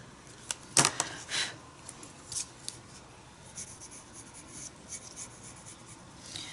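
A soft 2B graphite pencil draws a portrait face on paper: quiet scratching and rubbing strokes come in short, irregular bursts, close and faint, with no voices.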